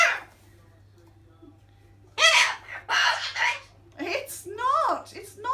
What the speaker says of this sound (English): It's kookaburras. It's birds. You hear them?